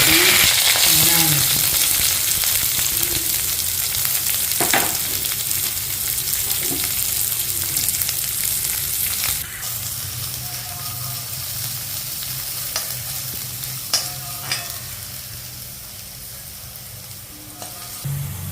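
Crushed fennel and curry leaves frying in oil for a Pudukkottai-style white kurma, a loud continuous sizzle that eases slightly partway through, with occasional faint spoon clicks and no speech.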